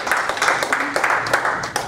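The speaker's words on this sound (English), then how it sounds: "give yourself a round of applause" A short round of applause from a seminar audience: scattered, fairly quick hand claps at moderate volume over faint room murmur, lasting under two seconds.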